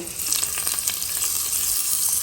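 Hot tempering of spices and chilies poured into a dish, giving a steady, close crackling sizzle with brief pops throughout and no talk.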